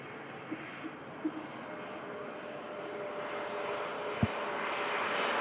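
A Turkish Airlines airliner arriving at Manchester Airport gives a broad, steady engine roar that slowly builds, heard from a distance, with a few faint clicks and knocks along the way.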